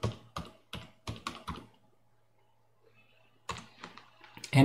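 Typing on a computer keyboard comes through as a handful of crisp, close key clicks in quick succession, a quiet pause, then another short flurry of keystrokes.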